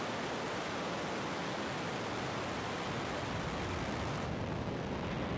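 A SpaceX Falcon 9 rocket lifts off at the NROL 145 launch, a loud, continuous broadband roar that stays steady and dense throughout, with no voices over it.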